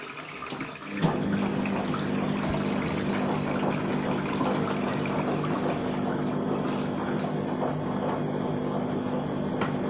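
Water pouring into a washing machine drum for a load of printed t-shirts, a steady rushing flow that starts abruptly after a brief quieter moment and continues evenly.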